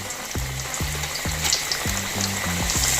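Chicken frying in a pan with garlic and tomato, a steady loud sizzle running throughout, broken by repeated low clinks and scrapes of stirring at a quick irregular pace.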